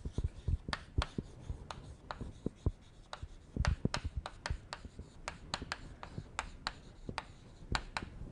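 Chalk or marker writing on a board during a lesson on an isothermal flat plate problem, steady clusters of sharp taps and short scratchy strokes, close, with no talk over them.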